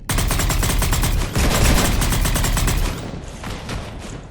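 Sustained rapid gunfire strafing a ship in the sci-fi game Mass Effect 3, loud and dense bursts running nearly continuously, briefly dipping then resuming before tapering into fainter shots at the end.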